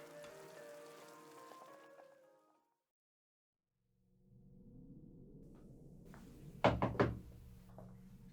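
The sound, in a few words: knock on door in radio drama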